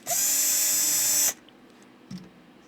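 A high-pitched power drill whines steadily for just over a second while drilling a small pilot hole for a car windshield GPS mount, then stops, followed by a brief soft clunk.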